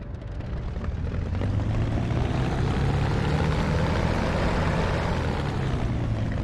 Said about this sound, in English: Gently move the throttle forward until the aircraft starts turning slowly, all while holding the right wheel brake